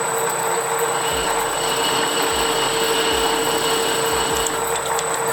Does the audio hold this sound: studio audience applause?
no